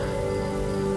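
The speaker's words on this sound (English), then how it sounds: "It's overcast today and rainy" Steady rain falls outdoors on an overcast day over a field being prepared for transplanting peppers and squash, a continuous dense patter filling the whole second with no talk, though strong steady hum-like tones run beneath it.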